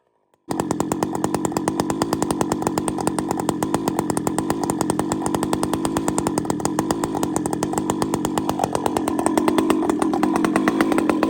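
A chainsaw starts abruptly and runs hard while bucking wood, a loud, close, continuous buzzing snarl that deepens and strains near the end as the bar bogs into the cut.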